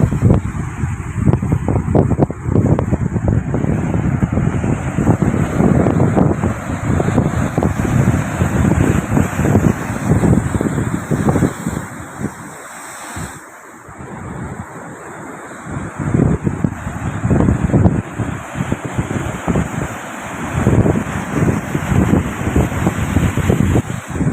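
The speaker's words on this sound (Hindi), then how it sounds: "ओमान वाली साइड पे, यहाँ पे लहरें बहुत तेज़ हैं" Strong sea waves wash onto the shore at Gwadar, Pakistan, a continuous loud roar of surf heavily mixed with wind buffeting the microphone, with a brief lull midway.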